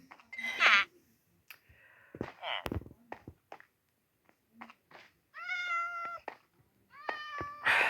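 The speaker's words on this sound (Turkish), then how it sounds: "Bu da köyün kedisi." A village cat in a farming or village-building video game meows several times, clear and close, with harmonic cries and some breathy sounds between them, and no talk over it.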